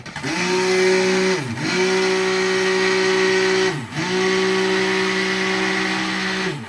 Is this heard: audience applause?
no